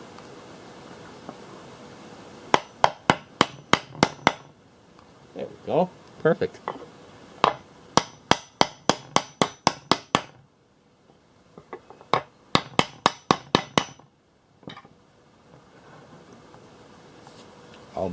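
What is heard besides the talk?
hammer smacking a piece of wood to seat a transmission part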